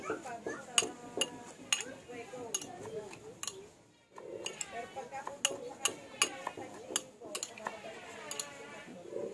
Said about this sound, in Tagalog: Paghahaluin lang natin yung sibuyas, kamatis, at saka yung asin na nilagay.